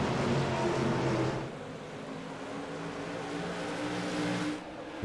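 Stock cars roaring as they accelerate at the start of a 100-lap race at Myrtle Beach, a loud, steady engine drone that dips after the first second and swells again, heard near with no talk over it.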